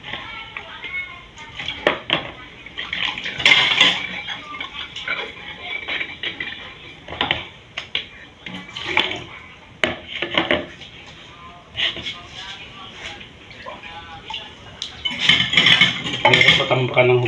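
Dishes, pots, glasses and cutlery washed by hand in a busy household kitchen, with repeated clinks, clatters and scrapes in uneven bursts, some close and loud, while a person talks intermittently throughout.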